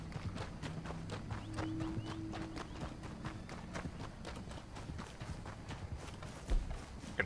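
Hooves clip-clop in a fast, steady rhythm of many sharp beats as a horse runs in the Red Dead Online game, fairly faint under low background sound.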